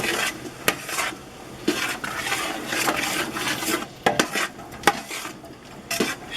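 A utensil stirs and scrapes gluten-free stuffing in a pan with irregular metallic clinks and scuffs, while a soft sizzle runs underneath, close and fairly loud, with no talk.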